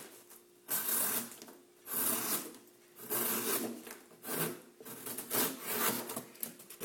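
A small neck knife slicing through cardboard, several separate rasping cuts of about a second each in a steady rhythm, close and fairly loud against quiet pauses.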